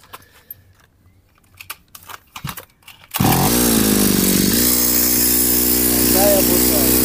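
A two-cylinder two-stroke brush cutter engine catches after a few quiet handling knocks and jingles, then roars into a loud, steady, buzzing idle that holds to the end.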